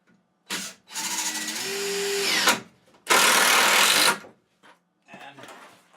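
Power drill driving 2.5-inch construction screws into wooden shelf boards: two loud whirring bursts of a few seconds each, the first rising in pitch as the screw seats, then faint clicks and handling noise.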